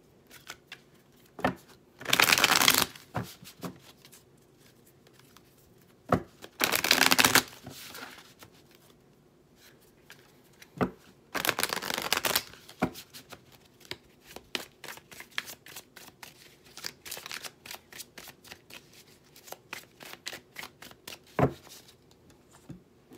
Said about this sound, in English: when I'm shuffling, how do I know when I'm done?